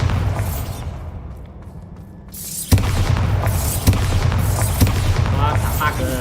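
A Bombarda spell blast in Hogwarts Legacy bursts in abruptly after a quieter stretch, a sharp booming impact followed by sustained crackling noise and a few further hits.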